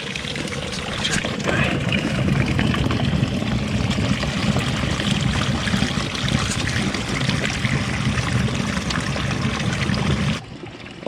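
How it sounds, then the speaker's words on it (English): Water trickles out of the rock in a canyon along Buckskin Gulch and the Paria River. It makes a steady, close, continuous splashing stream that fills a bag and barely changes for ten seconds. "Nice full bag, crystal clear water right out of the rock."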